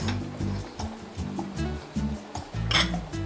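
A ladle clinks and scrapes against a metal pot in repeated short knocks as cooked meat for a kochi pathar jhol is scooped into a bowl, with faint sizzling beneath.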